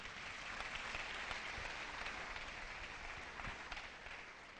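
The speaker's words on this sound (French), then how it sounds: "Acclamons pour la parole de Dieu." A church congregation bursts into sustained applause, a dense, steady wash of clapping that fills the room for several seconds without pause and fades only slightly toward the end.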